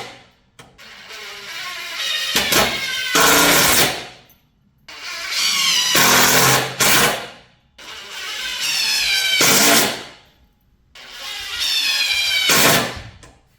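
Impact drivers driving screws in a screw test, four loud bursts of several seconds each with short quiet gaps between them, heard close up with no talk.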